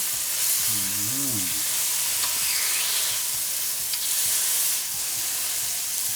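Beef sizzling on a hot pan, a continuous bright hiss and crackle that stays close and steady, with a brief voice early on.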